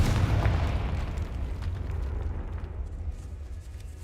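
A Confringo fire spell from the Hogwarts Legacy video game goes off in a decaying catacomb as a loud, rumbling blast that booms at the start and fades into a low, sustained roar.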